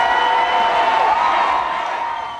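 A crowd of Gator fans celebrating a national championship, a broad wash of cheering and shouting voices that holds steady and tapers slightly toward the end.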